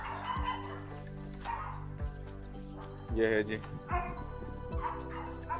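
German shepherd barking and yipping in short repeated bursts with some whimpering, close by, while someone talks over and between the barks.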